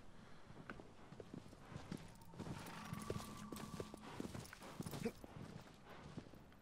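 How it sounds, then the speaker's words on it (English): Hooves clip-clop rapidly in a steady rhythm, a horse galloping over hard ground in the video game Shadow of the Colossus, with a faint whinny-like tone and some background noise. "Goddamn jumping horse"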